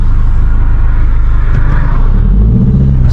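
Volkswagen Golf GTI engine driving on the road, a steady loud low rumble with continuous tyre and road roar that swells slightly toward the end, heard from inside the car.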